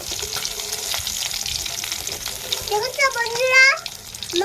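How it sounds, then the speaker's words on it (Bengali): Fish frying in a wok gives a steady close sizzle and crackle throughout, with a voice speaking over the last moments. "মাছগুলো এখন কড়াইতে দিয়ে নিয়েছি, এখন ভালো করে ভেজে নিই"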